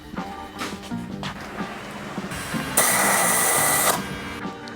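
Compressed air hisses steadily into a tire on a Power Wheels wheel assembly, a loud sustained burst of about a second that stands out from quieter workshop handling noise before and after.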